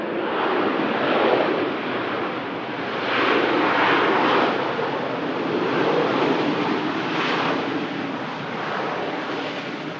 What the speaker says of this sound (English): Stylish touchdown from the 7-3 there.